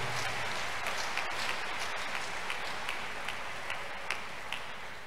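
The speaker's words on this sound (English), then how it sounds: "Clap for Jesus, clap for Jesus, clap for Jesus." A congregation claps together at a gospel crusade, a dense, continuous wash of hands with a few sharper claps standing out, steady throughout.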